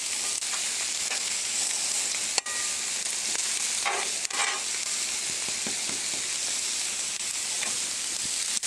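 Brussels sprouts sizzle on a Blackstone griddle in a steady, bright hiss and crackle, with a few scraping taps of a spatula stirring them.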